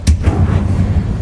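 A Confringo blasting spell from Hogwarts Legacy fires with a sharp, loud crack and a short booming burst that quickly tails off into low rumble.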